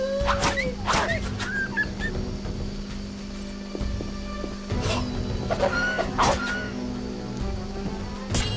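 Dogs in The Witcher video game whimpering, yelping and barking while being killed, several sharp cries scattered over a steady game hum with someone talking intermittently.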